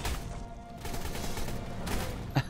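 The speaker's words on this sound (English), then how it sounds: "These things doing some shooting." Dense, continuous gunfire from dinosaur-era creatures in Ark Survival Evolved, a steady rattling barrage with a sharper burst near the end, no talking.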